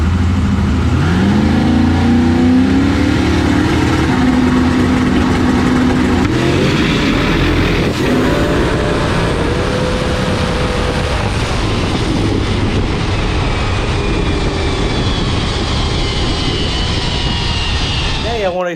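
Loud drag racing car heard from underneath the chassis during a pass, engine revving and rising in pitch with strong wind rush, sustained and close, fading abruptly at the end.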